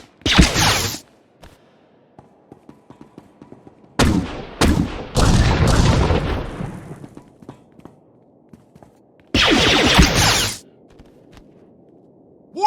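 Blaster gunfire in Star Wars: The Old Republic on Belsavis, three loud bursts of rapid shots separated by quieter gaps with faint footsteps and ambient hum.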